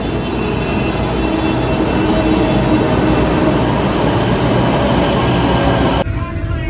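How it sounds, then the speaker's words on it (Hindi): A loud, steady rumble of a Delhi Metro train arriving close by, with a continuous roar and rattling that cuts off abruptly near the end. "आ गई आ गई यार मेट्रो"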